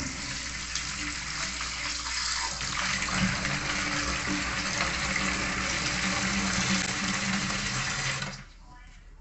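Seaweed being washed under running water, a steady loud gush from a tap with sloshing and splashing that continues for about eight seconds, then cuts off abruptly.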